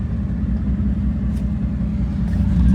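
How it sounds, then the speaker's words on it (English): A 2008 Chevrolet Silverado with the 5.3 liter engine idles with a cylinder 4 misfire linked to its DOD system, giving a close, steady low rumble with no one talking. "Got a little shake here from a DOD on misfire on cylinder number 4"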